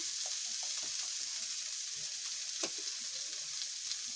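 Diced potato filling for aloo paratha sizzles steadily in hot oil while being sautéed golden brown, a constant close frying hiss with faint stirring clinks.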